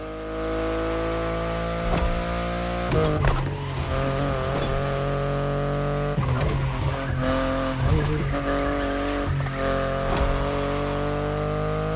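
A BMW i8 is driven in the racing video game The Crew Motorfest, its engine droning steadily with repeated shifts and surges, tire squeals and skids breaking in, loud and continuous throughout.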